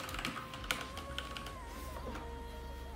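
Keys clatter in a steady run of typing on a cheap 20-real computer keyboard, close and fairly quiet, with irregular clicks and a few sharper strokes.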